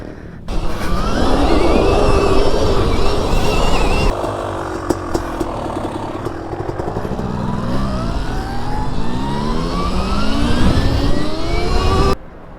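Motocross dirt bikes ride along a road on the way to a gas station, their engines loud and close as they rev, rise and fall through the gears, then cut off abruptly, with no talking.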